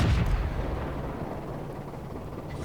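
A tank cannon fires in World of Tanks from a Marder tank destroyer shooting into a valley, a single deep boom at the start that fades into a low rumbling tail.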